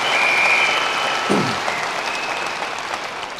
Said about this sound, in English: Give Rob Foster a round of applause.